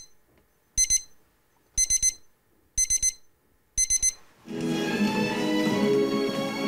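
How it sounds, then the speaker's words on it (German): An alarm clock rings loudly and close in four evenly spaced bursts of rapid metallic beeps, followed by a swell of music. "Und gestern habe ich schon wieder den Wecker nicht gehört."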